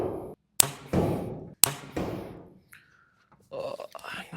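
An arrow released from a PSE Lazer X bow strikes a target, with two sharp snapping impacts and decaying thuds, followed by a short tone and quiet voices talking.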